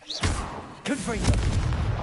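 A Confringo fire spell blast goes off in Hogwarts Legacy, a thumping boom followed by a second burst and crackling magical whooshes, with a voice speaking over part of it.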